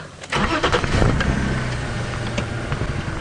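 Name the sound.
car driving past on a safari road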